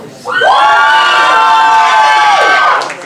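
A live comedy improv audience erupts in loud cheering and whooping for about two seconds, a dense close crowd roar that swells quickly and fades.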